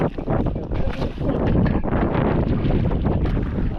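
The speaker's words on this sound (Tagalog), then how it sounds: "Medyo mahangin." Strong wind buffets and roars across the microphone continuously, with a rushing, gusty noise throughout.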